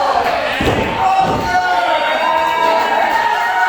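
Crowd roaring and cheering at a women's pro wrestling event in the Eagles Club, loud and sustained, with heavy slams or thuds early on and voices mixed into the din.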